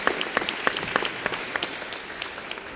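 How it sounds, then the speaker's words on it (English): An audience at a women's conference panel discussion claps for the speakers, a steady patter of applause at moderate distance that slowly thins out. "Give them a round of applause for being up here."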